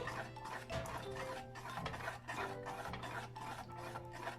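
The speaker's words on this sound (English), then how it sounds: "So I'm going to keep stirring" A spoon steadily rasps and scrapes around a pot of Jamaican cornmeal porridge in a home kitchen, with rhythmic, close stirring strokes heard alone.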